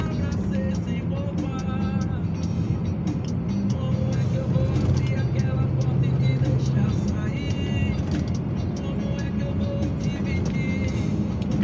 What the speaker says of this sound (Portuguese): Caminhão é Volvo, pneu é Michelin, rodovia é Rio Bahia.